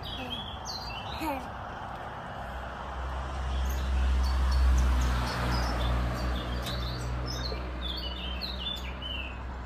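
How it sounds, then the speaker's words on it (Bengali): Birds chirp and call in short bursts over a steady low rumble outdoors, with several calls overlapping at moderate distance. "পাখিগুলো দেখ এমন করে ডাকছে যেন কথা বলছে"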